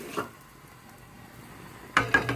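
Fried eggs go into a pot of egg and salted ribbon fish curry, giving a short burst of metallic clinks and clatter near the end, after a single faint clink and a quiet stretch.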